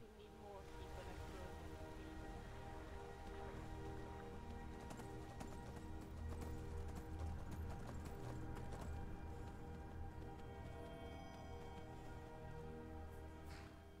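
Rhythmic clip-clop of horse hooves in modded Skyrim runs steadily over a layered game soundscape with background music, no speech.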